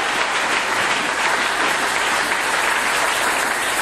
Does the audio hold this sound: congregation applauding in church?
yes